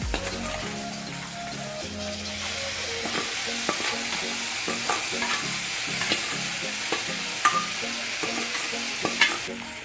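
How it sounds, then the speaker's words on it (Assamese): Chopped onions fry in hot oil while boiled cauliflower and potatoes are stirred in for khichdi. A loud, continuous sizzle runs throughout, broken by scraping stirs and soft clatters of the pan, with no talking. "পিয়াজখিনি ভজা হৈ গৈছে ইয়াতে মই এতিয়া সিজাই ৰখা কবি আৰু আলুখিনি দি দিম"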